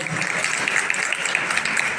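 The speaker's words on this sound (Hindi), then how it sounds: "जोरदार तालियों से स्वागत करें आदरणीय श्रद्धेय कृष्णनाथ बाबा" Crowd applause greets a revered guest at a sannyas initiation ceremony in Wambori, a steady dense clapping lasting a couple of seconds with faint voices beneath.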